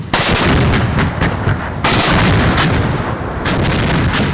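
K9 Vajra self-propelled howitzer firing on an army field firing range, loud heavy booming blasts with rumbling echoes, a couple of big reports a few seconds apart over continuous rolling noise.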